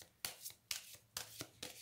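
A deck of cards shuffled for a card reading, four quick riffling bursts in a steady rhythm, close and crisp with nothing else heard.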